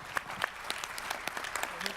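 Scattered clapping from a modest audience, brief and fairly faint, with murmuring voices in the background.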